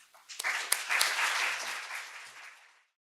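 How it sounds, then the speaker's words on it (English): An audience at a Supreme Court update talk breaks into applause that builds quickly, holds steady and then fades out to silence near the end. "let's all give a round of applause as Michaela comes up here"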